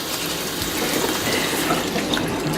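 Cucumbers for old-fashioned mustard pickles rinsed under running water in a kitchen sink, a steady close rush of tap water with no breaks and no voices.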